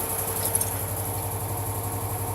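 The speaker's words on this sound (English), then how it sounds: "Then I like to start the engine so I can hear what's going on." A car engine idles during a throttle cam adjustment, a steady low hum with a faint high whine, close and continuous without speech.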